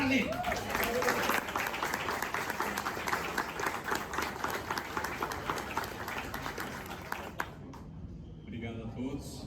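An audience at a Porsche Endurance presentation gives a warm round of applause, many hands clapping steadily at a distance for several seconds, then fading out as a voice begins speaking near the end.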